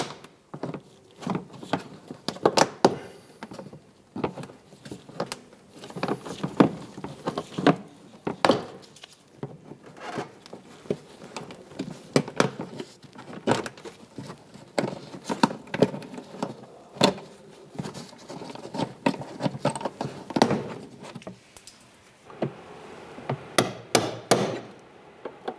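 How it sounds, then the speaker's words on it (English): A trim tool pops plastic clips out of the rear inner fender liner on a 2005-2010 Chrysler 300, giving repeated sharp snaps and knocks at an irregular pace over a low background, close by. "Using our trim tool right here, we're going to go ahead and pop these buttons."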